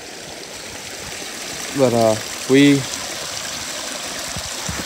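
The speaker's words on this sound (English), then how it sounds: "there's a pipe, like, right there, where the water's draining out" Water drains out of a pipe on a mountainside with a steady, close rushing flow, while a couple of short bursts of speech cut in over it midway.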